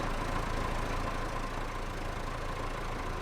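A tractor engine idles in Farming Simulator 25, a steady continuous mid-low rumble with a faint tonal hum that holds even and unbroken throughout.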